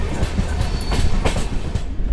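An Indian express train clatters over a railway level crossing, heard loud and close from on board, with rhythmic clickety-clack wheel beats and rumbling carriage noise.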